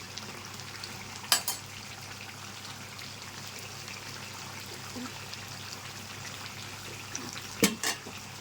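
Chicken masala roast sizzles steadily in a pan as it is stirred, a constant frying hiss with a couple of sharp utensil clinks against the pan.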